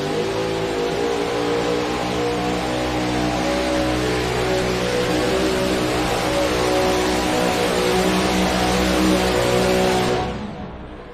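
A drag-racing or competition car engine at a Friday night spectacular in Wellington, Ohio revs hard and steadily for about ten seconds, loud and close with rich harmonic drone, then cuts off abruptly near the end.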